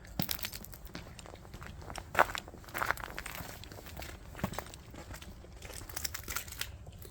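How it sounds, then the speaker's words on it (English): Quick footsteps crunch over loose stone gravel, an uneven run of gritty crunches at a moderate distance, with a few sharper crinkling spikes along the way and no voices. "It sounds like footsteps on loose stone."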